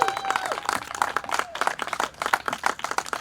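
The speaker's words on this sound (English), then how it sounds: "Can we have a loud round of applause for all of our graduates here today?" Applause for graduates at a 2020 Centennial High mini graduation: scattered hand clapping from a small group, fairly faint and somewhat uneven, with a brief whistle-like tone near the start.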